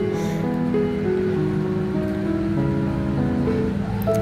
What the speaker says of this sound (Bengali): প্রচুর জোরে না বৃষ্টি নামছে কমছে